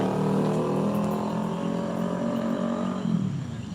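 Loud motor vehicles rev and roar along a street, a steady close engine drone that shifts pitch near the end, heard alone without talk.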